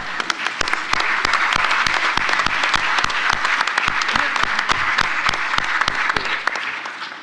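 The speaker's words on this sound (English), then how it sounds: "let's give her a round of applause" An audience at a panel event with heads of space agencies breaks into sustained applause, a dense, even roar of many hands clapping for several seconds without talk.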